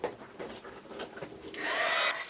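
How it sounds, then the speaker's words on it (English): A handheld heat gun drying watercolor paints switches on partway through, a steady loud blowing whoosh that holds to the end after a stretch of quieter rustling and handling. "So I'm just going to get out my gun and dry these."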